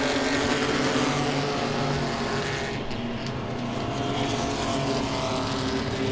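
Pro Six race cars racing at Langley Speedway, a loud, continuous engine roar from several cars lapping the oval, steady throughout with a slight dip midway.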